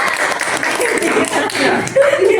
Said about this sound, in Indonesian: beri tepuk tangan untuk Mbak Eldian.